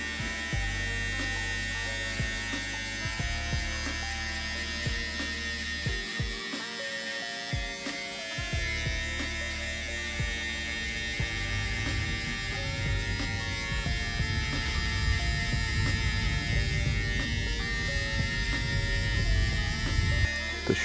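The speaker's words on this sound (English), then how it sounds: "now we're just setting in the guideline with the clipper all the way closed" A Babyliss Black FX electric hair clipper buzzes steadily, close and continuous, while setting a guideline in a haircut, its tone shifting slightly as it moves through the hair, with no talking.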